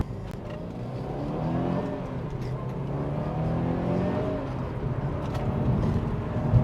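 A JDM Subaru Impreza STI GVB sedan with a turbocharged EJ engine accelerates, its engine note rising in pitch through the gears, heard from inside the car as a steady, moderately loud drone.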